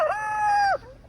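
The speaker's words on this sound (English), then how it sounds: "we want to make sure that we take care of our roosters" A young Jersey Giant rooster gives a single loud, close crow lasting under a second, its call held steady then dropping off sharply, followed by a brief soft cluck.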